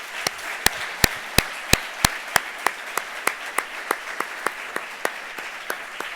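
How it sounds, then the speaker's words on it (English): Conference audience applauding the organizing team at a closing session, a fairly loud crowd clapping with a strong regular rhythm, sharp in-unison beats standing out over a continuous patter of hands. "please give a big applause to Alberto and the team that has"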